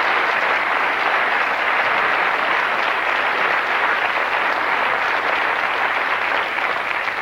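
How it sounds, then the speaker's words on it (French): A studio audience at a 1991 television game show applauds steadily, a loud, continuous roar of clapping that holds at an even level for about seven seconds. "On l'applaudit."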